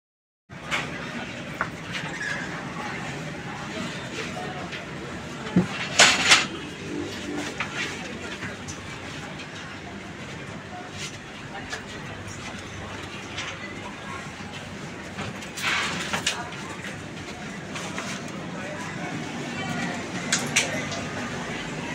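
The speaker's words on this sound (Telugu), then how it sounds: "చూసారుగా గ్యాస్ మన Pinakini super fast express new coaches train అనమాట." Steady rumble inside a new coach of the Pinakini Superfast Express running between Vijayawada and Ongole, with occasional clunks and rattles rising above the constant drone and faint voices in the carriage.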